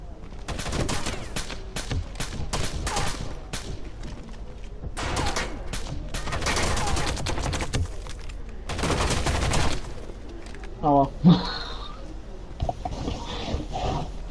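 An AK rifle fires in Rainbow Six Siege, sounding as several sharp bursts of close gunshots spread through the match, with a voice talking and some odd squeaky sounds near the end.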